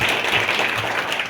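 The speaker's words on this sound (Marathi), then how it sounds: "सगळ्यांनी टाळ्या वाजवायच्या." Audience applause at a school quiz programme for Chhatrapati Shivaji Maharaj Jayanti, a brief, fairly loud burst of many hands clapping, dense and continuous with no talk over it.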